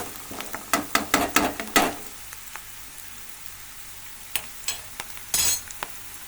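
Shallots fry in a pan with a soft background sizzle, broken by a run of sharp scraping and tapping stir strokes early on and a few more later, with no talk.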